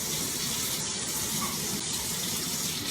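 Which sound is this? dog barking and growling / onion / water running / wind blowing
water running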